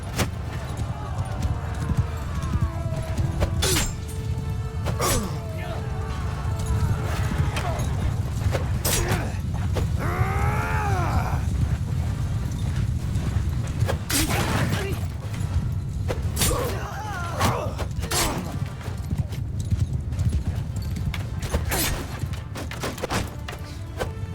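Cavalry horses galloping in a Mount & Blade II Bannerlord battle, a continuous low rumble of hooves under clashing impacts, scattered shouts and ongoing battle noise, with someone talking over it.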